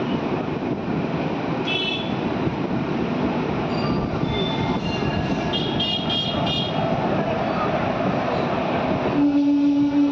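A vintage locomotive hauling a train passes close by, with steady wheel rumble and clatter, metallic squeals and brief tonal horn-like notes throughout, and a low steady hum near the end.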